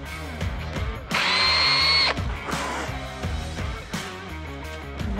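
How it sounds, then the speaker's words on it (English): A power drill whines loudly for about a second while drilling straight down into plywood, then bursts again in shorter runs over a steady, busy background of clatter. "I'm going to drill straight down"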